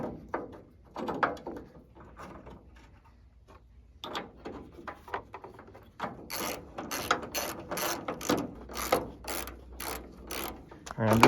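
A hand ratchet snugs the bolts on a new tailgate hinge, which has cleaned, lubricated threads. It starts with softer handling sounds and then breaks into a steady run of close, sharp ratcheting clicks in quick bursts.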